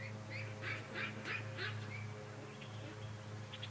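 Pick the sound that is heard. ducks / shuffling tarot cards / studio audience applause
ducks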